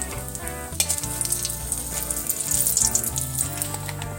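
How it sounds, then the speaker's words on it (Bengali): Dried chillies, bay leaf and cardamom hit hot oil left from frying potatoes, giving a bright crackling sizzle that holds steady and close for a few seconds with no talking. "ওই তেলে আমি শুকনো লঙ্কা, তেজপাতা আর এলাচ দিয়ে দেব।"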